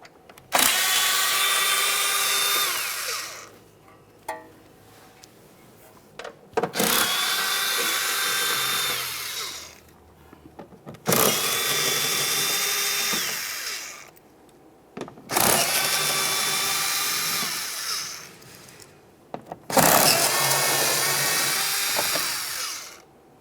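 A power driver spins out T15 screws from the back edge of a GMC Acadia front inner fender liner, four loud whirring bursts of several seconds each, separated by short pauses and small clicks.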